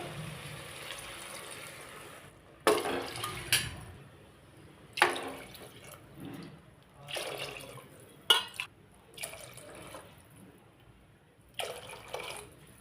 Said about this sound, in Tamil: இந்த டைமில் ஆறு கப் தண்ணி சேர்க்குதேன்